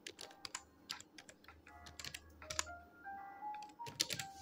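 Fingers type on a computer keyboard while renaming a pen drive: a rapid, uneven run of light key clicks, soft and close, with no talking.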